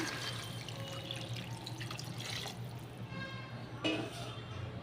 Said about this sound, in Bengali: এবার জল ঢেলে দিলাম